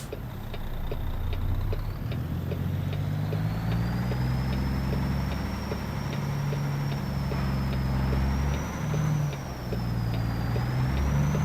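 Semi truck in American Truck Simulator backing into a parking spot, a low rumbling diesel idle with shifting engine tones, a steady high reversing beep pulsing throughout, and occasional clicks.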